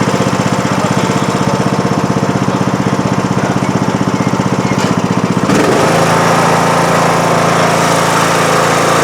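A John Deere D105 lawn tractor engine runs with a loud, rapid, steady chugging drone, then its pitch and rhythm shift partway through as the tractor moves off and keeps running.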